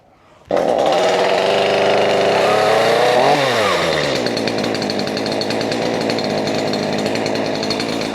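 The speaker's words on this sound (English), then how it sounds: "It's a cold saw, so we're gonna go ahead and put her on full choke." Stihl MS212C chainsaw on full choke after a cold start, roaring loud and close as it fires up half a second in, then revving briefly before settling into a steady high-pitched racing idle.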